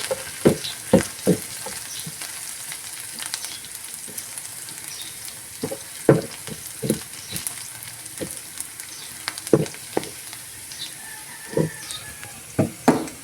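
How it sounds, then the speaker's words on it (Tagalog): Garlic and onion sauté in a frying pan under a constant close sizzle, punctuated by repeated sharp clacks and scrapes of a utensil stirring against the pan; nobody talks. "Lagay na po natin yung bawang at saka sibuyas."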